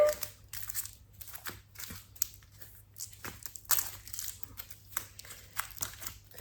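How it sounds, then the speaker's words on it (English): Papery rustling and soft riffling bursts in irregular bunches, like cards being shuffled close by, fairly quiet with no talking. "Let's shuffle one more time."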